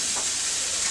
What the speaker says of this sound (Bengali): ফুলকপিগুলো হালকা করে ভাজা হচ্ছে।